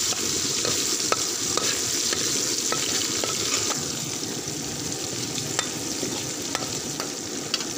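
Sarson saag with ginger, green coriander and tomato is stirred in a pan over steady sizzling, village style, with a spoon scraping the pan at irregular intervals, close and moderately loud, without talk.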